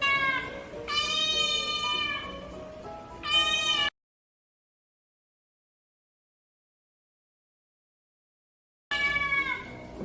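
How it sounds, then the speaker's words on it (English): A cat meows in long, drawn-out cries, two calls in close succession, then several seconds of complete silence before another meow starts at the end, loud and close with no talking. "The cat."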